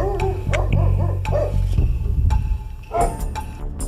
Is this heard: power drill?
no